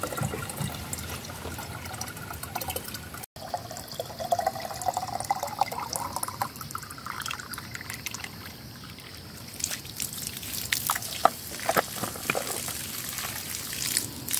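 Water flows and trickles from a mountain water pipe used for washing laundry, a steady continuous splashing stream, close and moderately loud, with scattered clinks near the end.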